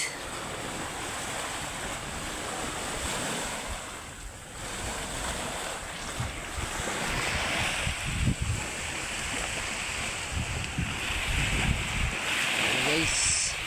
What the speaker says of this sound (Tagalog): Ingay ng dagat guys.